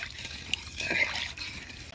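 Water poured into a pan of potatoes cooked down with a ground spice paste of coriander, cumin, ginger, chili, turmeric and salt for a Bengali fish curry, a short broadband splashing trickle heard alone.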